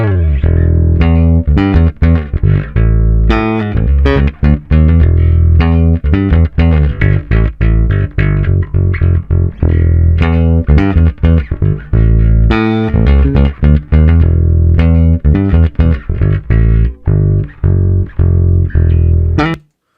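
A Fender P bass with a maple fretboard, played with fingers through a clean CLA Bass plugin preset, carries a continuous run of plucked notes, with a firm, loud, rounded low end and a steady groove for about twenty seconds.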